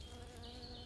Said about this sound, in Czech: Podívej, vidíš včelku?